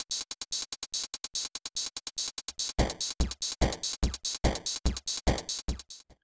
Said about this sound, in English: This is used to create the open-closed hi-hat effect